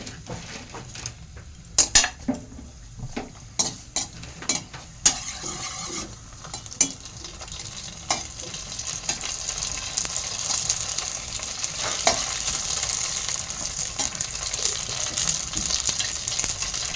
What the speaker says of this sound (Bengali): শুধু এখানে পাঁপড়গুলো ভাজা বাকি আছে